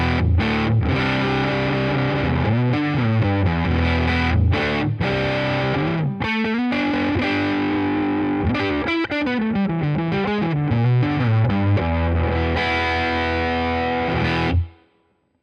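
An electric guitar played through a Tonex capture of a Fender Brownface-style amp rings out in sustained, driven chords and moving notes, loud and continuous before cutting off abruptly near the end.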